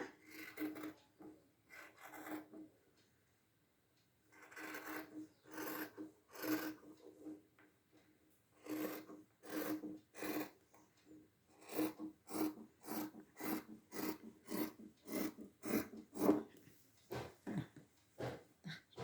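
Scissors cut fabric for a puff sleeve in a run of short, crisp snipping and rasping strokes. They start in scattered bursts, then settle into a quicker, regular rhythm, close up and quiet, with no voices.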